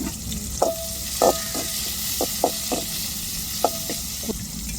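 Chilies fry in a home kitchen pan with a constant close sizzle, while a spoon knocks and scrapes against the metal in sharp irregular taps during stirring, and nobody speaks.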